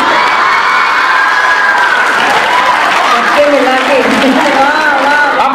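An audience at a Hindi comic poetry gathering claps loudly and steadily, with cheers and shouts mixed in while voices carry over the applause throughout.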